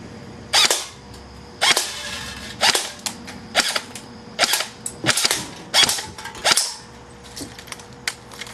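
An A17 R.I.S. airsoft electric rifle fires on semi-auto, about a dozen sharp, snappy shots in an irregular rhythm, some spaced and some in quick pairs, loud and close with brief quiet gaps.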